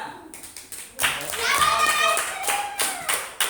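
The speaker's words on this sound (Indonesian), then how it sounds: "Oke, tepuk tangan untuk semuanya." A classroom group claps along after a teacher's scoring, a run of separate hand claps that thickens into a short ragged round, with young voices chattering under it.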